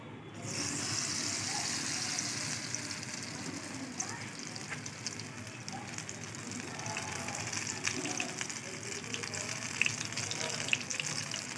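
Constant hissing sizzle of batter-coated lote (Bombay duck) fish frying in a pan, steady and fairly close throughout, with faint crackles and no clear talking.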